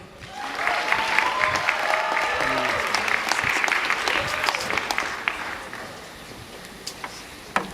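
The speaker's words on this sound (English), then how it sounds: "Can we please give them a round of applause?" An audience applauds at an official South African government event, a full round of clapping that swells quickly, holds steady with some voices mixed in, then thins to a few scattered claps.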